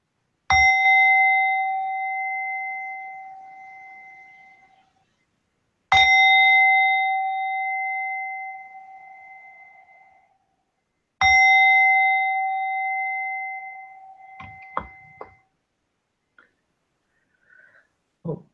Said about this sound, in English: As you hear the gong, slowly coming out from meditation and reflect for a few moments.